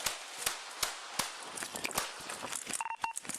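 A police officer fires a rapid series of sharp gunshots, about a dozen cracks in quick succession, followed by scattered clatter and a brief electronic beep near the end.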